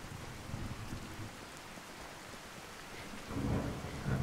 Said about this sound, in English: That's quite the storm we got going on here.